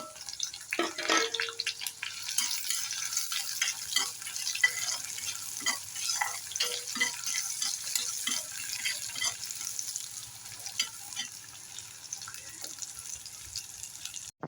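Chopped onion and garlic fry with dried chillies in a pan, a steady sizzle with frequent scraping and stirring clicks across the whole stretch, close and fairly loud, no talking.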